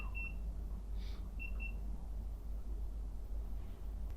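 Short electronic beeps from a flashlight chirp intermittently, a few quick tones in pairs, faint over a steady low background hum.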